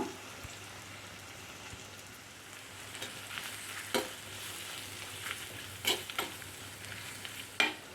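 Onions and shallots sautéing with cooked clam meat for kakka roast, a soft steady sizzle broken by several sharp stirring scrapes and taps.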